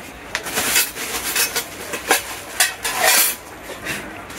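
Hard plastic and metal parts of a robot food processor clatter as its slicing disc plate is handled and set in place, giving a series of close, sharp clinks and knocks with no speech.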